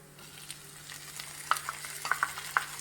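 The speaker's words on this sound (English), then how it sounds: "Now I will add tomatoes to this." Onion and tomatoes sauteing in a pan over a medium flame, a soft sizzle punctuated by sharp clinks and scrapes of a spoon stirring against the pan, several distinct knocks toward the end.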